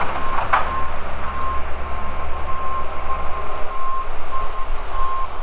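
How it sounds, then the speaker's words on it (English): A red tracked machine with a grinder mulches cut tree limbs outdoors, producing a steady low engine rumble with intermittent high reversing beeps carrying from some distance. "there's a red tracked machine that's got a grinder on it, and they're going over all their cut limbs and whatnot and just mulching it up"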